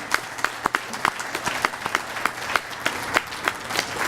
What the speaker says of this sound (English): let's give these young people a big round of applause this morning